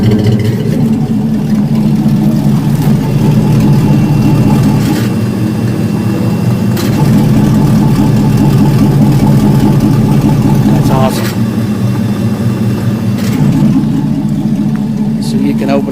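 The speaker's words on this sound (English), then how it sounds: "Here comes the headers. They were open." A loud, rumbling 1982 Chevy C-10 Silverado truck engine with open exhaust headers idles and revs steadily throughout, deep and throaty, with a voice speaking over it.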